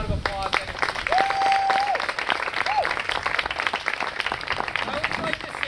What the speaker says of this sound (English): If we could give them all a round of applause, that'd be great.